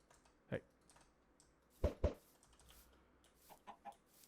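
In the video game Minecraft, chickens give short soft clucks and pops as they lay eggs, a few scattered sounds against quiet background with faint clicking.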